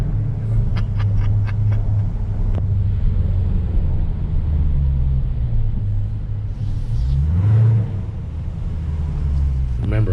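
A Dodge Challenger 392 with MFER mufflers and open baffles idles with a deep rumble, then gets a short rev that swells and falls back near the end, loud and close.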